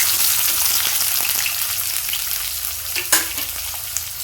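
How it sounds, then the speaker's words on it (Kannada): Two chopped onions fry in a hot pan, giving a dense, continuous close sizzle with a few light stirring scrapes and one sharper clatter, no one speaking. "ಈಗ ಫ್ರೈ ಮಾಡ್ಕೊಳ್ಳೋಣ"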